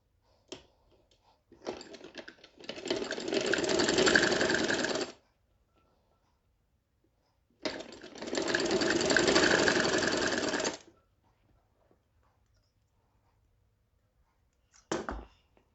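A sewing machine stitches the sleeves of a kurti in two bursts of rapid, steady mechanical whirring, each lasting a few seconds, separated by quiet pauses and followed by a short final whir.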